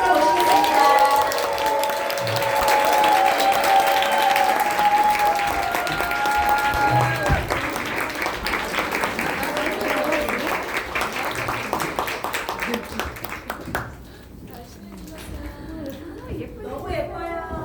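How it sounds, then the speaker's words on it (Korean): A Korean seminar audience claps steadily in sustained, moderately loud applause to welcome a speaker to the stage, fading toward the end as a voice begins talking. "신영주 리더님을 큰 박수로 모시겠습니다"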